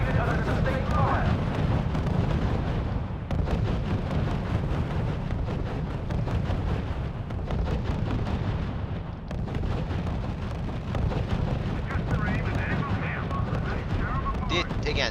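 Dense artillery fire and explosions from the RUSE strategy game rumble continuously in a heavy, booming barrage with sharp blasts, while a voice speaks over the battle noise.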